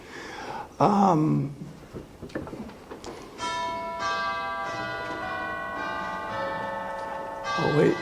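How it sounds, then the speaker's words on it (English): A voice speaks briefly, then a bell rings out with a sustained, shimmering tone that hangs in the air for several seconds. "I'll wait for the bell to..."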